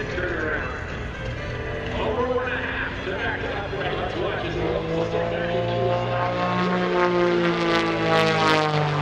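A Pitts S1S aerobatic biplane performs at the Greenwood Lake airshow, its propeller engine droning steadily and shifting in pitch as it maneuvers, with the sound rising toward the end; a commentator's voice runs underneath.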